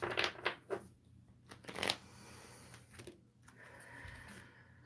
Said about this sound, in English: let's pull a couple more tarot cards to understand each one of these a little bit better